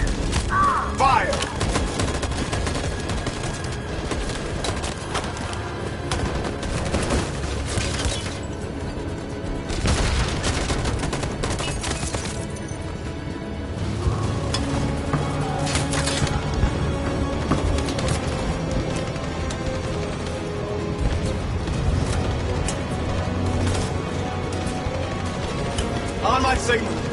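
Gunfire in the video game Detroit: loud, repeated bursts of shots and volleys crack and boom in a dense, ongoing firefight, with voices shouting between and under the shooting.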